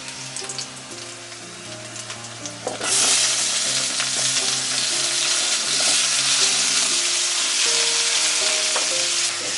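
Loud, steady sizzling of onions and vegetables sautéing in a hot pan for chow chow chutney, with a faint stirring scrape and background clatter, no voices.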